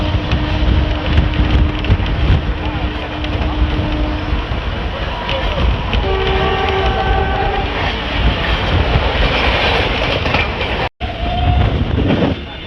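A passenger train rolls through a station in Odisha on the Howrah–Puri line, a loud, steady rumble with rail clatter and brief sustained horn-like tones, heard close from on board.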